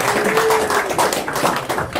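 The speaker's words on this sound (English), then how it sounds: "we clap after everybody" Clapping from an audience at an evening gathering with speeches, a brisk, close burst of many hands filling the moment, with a voice briefly audible underneath.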